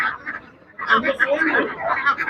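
Ducks, geese and other poultry honk and quack in quick overlapping bursts at a wholesale chicken market in Ghazipur, Delhi, loud and close, after a brief quieter pause.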